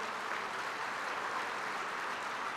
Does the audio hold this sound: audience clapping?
yes